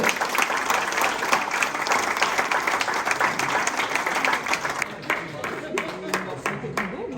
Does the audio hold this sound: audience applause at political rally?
yes